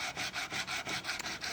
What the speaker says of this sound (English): And I may go just a little further with regular sandpaper